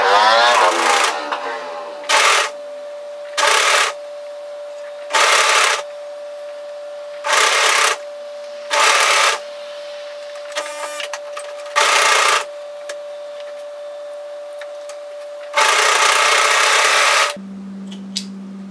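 Overlocker sewing a seam on a one-shoulder top while its blade trims off extra fabric and threads, loud and close in repeated short bursts with pauses, ending in one longer run.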